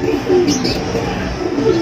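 Soft cooing from a sick pigeon on a roof, a couple of low throaty calls rising out of steady background noise.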